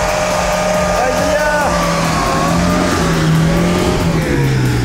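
A 4x4 off-road vehicle on Velcro-type winter tires struggling on wet snow, its engine revving loudly with rising and falling pitch as the wheels spin, with people talking over it.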